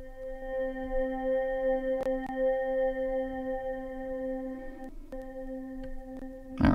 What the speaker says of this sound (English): I believe they got the pad off a DX7, a software version.